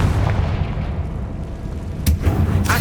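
A Confringo explosion spell cast in the video game Hogwarts Legacy, heard as a couple of sharp booming bursts near the end over a rumbling game background, loud and close, with no speech.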